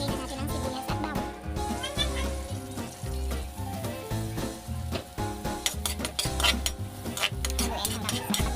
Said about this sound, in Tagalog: ilagay na natin ang sibuyas at bawang